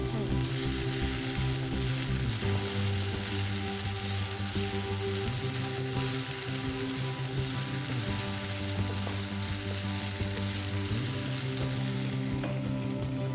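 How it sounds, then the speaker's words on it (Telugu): Curry leaves crackling and sizzling in hot oil, with a steady dense frying hiss that holds for the whole stretch over a low hum and occasional stirring. "కరివేపాకు మనం ఆయిల్లో వేసుకున్న తర్వాత చట్పట్లాడాలి."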